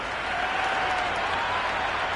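A packed ground at the Big Bash League final between Perth Scorchers and Sydney Sixers fills with a broad, steady roar of cheering and clapping, loud and continuous with no pauses.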